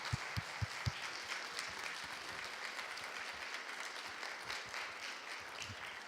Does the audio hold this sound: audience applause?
yes